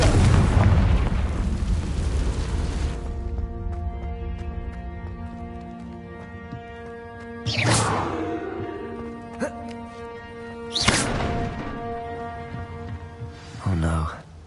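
A Confringo blast spell explodes in Hogwarts Legacy: a loud booming burst opens and slowly fades under a sustained tonal musical drone, with a few later sharp whooshing hits and bursts spaced apart, voices occasionally present.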